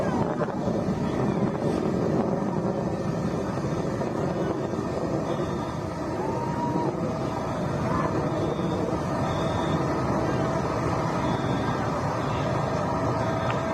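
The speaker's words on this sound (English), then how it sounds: "Engine back up to full throttle." Blue Origin New Shepard rocket engine at full throttle after max Q during a crewed launch, a steady broadband roar with wind-like rumble sustained throughout, distant and uniform with no speech.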